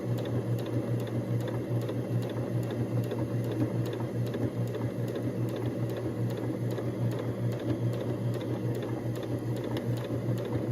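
A sewing machine runs steadily at slow speed stitching fleece, a continuous mechanical hum with an even rapid needle ticking throughout, close and alone.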